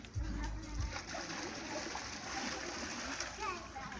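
Splashing water as a child kicks their legs during a first swimming lesson, steady broadband splatter lasting throughout, with a voice speaking under it.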